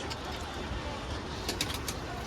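Pigeons in a coop, including tumbler pigeons, coo softly under a steady background hum, with a few brief higher calls near the end.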